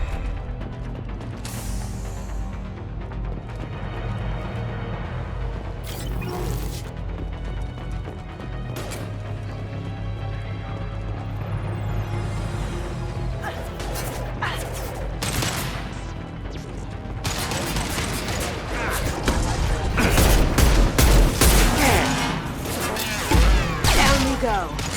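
Concussive shot and rapid gunfire in the video game Mass Effect 2, a dense run of mechanical clatter and cracking shots that grows louder and busier toward the end, with voices heard over it.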